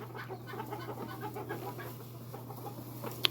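Backyard flock of chickens clucking softly and continuously, a murmur of overlapping low clucks with a steady hum underneath and one brief sharp chirp near the end.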